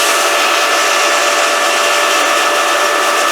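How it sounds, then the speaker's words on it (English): A Lapierre 1000 series reverse osmosis pump runs close by with a loud, steady, unbroken whine and hum, holding an even level throughout with no other sounds. "So the same way, you start the pump"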